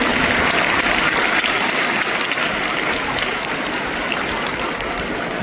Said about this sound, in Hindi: आइए वापस से जोरदार तालियों के साथ इनको संपादन करें।